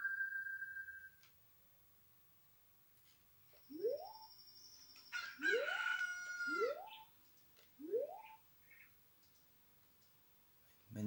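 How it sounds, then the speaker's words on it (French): A synthetic rooster crow from The Legend of Zelda: Ocarina of Time, heard out of water, rises briefly, followed by a series of quick upward chirping sweeps, fairly quiet, with a short electronic tone at the start. "on va entendre le chant du coq hors de l'eau"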